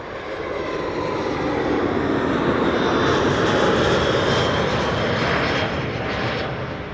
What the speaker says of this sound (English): this is BA flight 450 arriving from London Heathrow,